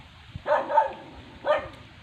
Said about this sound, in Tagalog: Yun naman yung aso namin, si Luna, yun, oh.